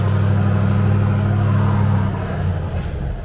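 Truck engine making a U-turn on a motorway, a loud low rumbling drone held steady and then easing off slightly as it moves.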